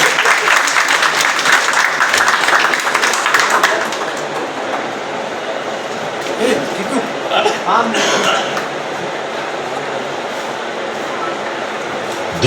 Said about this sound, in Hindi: सम्मान की तालियां जोरदार होनी चाहिए।